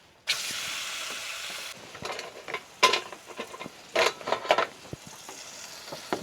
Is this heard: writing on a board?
no